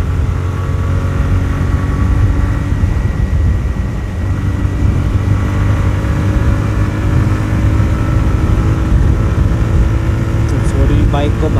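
TVS Raider 125 motorcycle in power mode, its engine running steadily and loud throughout with a continuous low drone and rising harmonic tones, heard close from the rider's position with wind rush over it.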